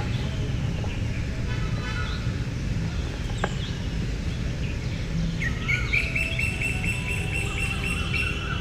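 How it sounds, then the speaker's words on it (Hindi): Small birds chirp and twitter in a city garden at dawn, fairly faint and steady throughout with a brighter run of repeated calls near the end, over a constant hum of distant road traffic. "पक्षियों के कलरों की आवाज"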